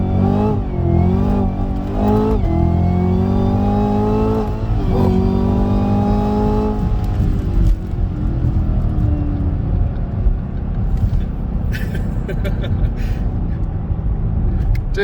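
A 2018 Chevrolet Camaro ZL1 accelerates hard, heard from inside: the loud engine note sweeps upward through several quick gear shifts, then settles into a sustained high-speed roar with road and wind noise.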